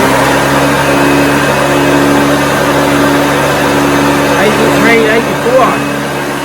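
A 1980s Hoover Junior Deluxe vacuum cleaner runs with a steady droning motor hum and a whining tone, close and loud throughout, with a person talking briefly over it near the end.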